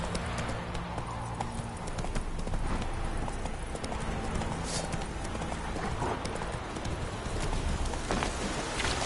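Galloping horse hooves in a video game, a fast, continuous clip-clop rhythm that stays loud and close throughout over dense game ambience.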